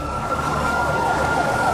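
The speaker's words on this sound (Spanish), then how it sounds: "las sirenas comenzaron a sonar a lo largo de la frontera más oriental y vulnerable de la OTAN" Warning sirens sound at night along NATO's eastern border at the Narva river in Estonia. A steady, sustained wailing tone holds throughout, with a dense rumbling wash beneath it.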